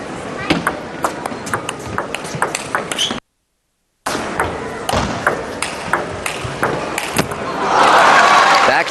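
Table tennis ball struck back and forth in a fast backhand-to-backhand rally between Xu Xin and Zhang Jike at a China Open men's singles semifinal, crisp repeated pings under commentary and a cheering crowd.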